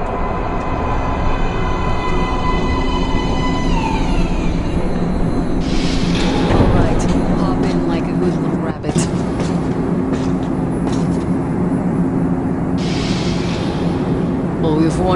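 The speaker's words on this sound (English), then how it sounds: "Train coming in." A subway train pulls into a metro station platform in the video game Metro Last Light, a steady rail rumble with clanking and hiss bursts running throughout, under ambient game sound.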